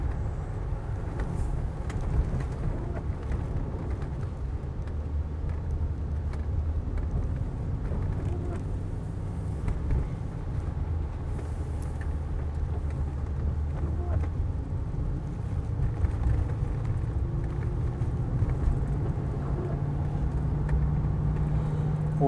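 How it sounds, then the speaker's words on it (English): A Mercedes S420 limousine's engine gives a steady low drone as the car picks up speed, heard from the cabin under constant wind and road rush. "Foot down a bit, you can hopefully hear some sort of engine noise now."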